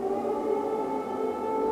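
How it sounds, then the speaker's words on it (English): An air raid siren in Kyiv warns of an incoming airstrike, holding a loud, steady wailing tone throughout a short stretch with no voices. "Today, sirens rang out again in Kyiv to warn of an airstrike."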